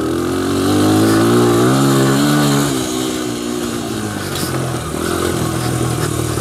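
A 2001 Honda XR100R motorcycle engine runs close and loud, its pitch rising and falling as the throttle is worked, then it settles into a rougher, steadier run.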